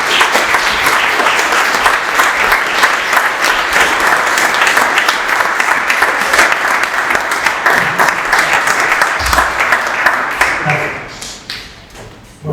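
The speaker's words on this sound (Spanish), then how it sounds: "yo creo que se merece un aplauso" A lecture audience at a talk on eight years directing Heraldo de Aragón breaks into sustained applause, dense and loud clapping that holds steady for about ten seconds before thinning out and fading.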